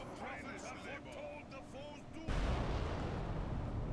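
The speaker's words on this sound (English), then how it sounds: "Blow this up here, because we need to get the cannons going." Cannon artillery in Call of Warhammer fires as a sudden loud boom partway through, leaving a broad rumbling roar that lingers; someone talks over the first half.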